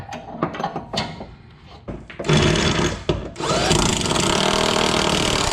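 An impact or power driver runs bolts back in while lowering springs are fitted to a Ford Mustang GT, first as short clicks and knocks, then two sustained loud whirring bursts close to the listener.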